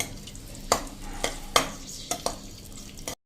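Almond pieces frying in melted ghee, heard as a steady sizzle broken by several sharp spoon scrapes and clinks against the pan, close and fairly loud with no talking.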